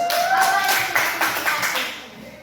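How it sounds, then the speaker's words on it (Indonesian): A grade six classroom breaks into a short burst of applause, many hands clapping close by and then fading out, with a voice briefly heard over it. "kasih aplaus"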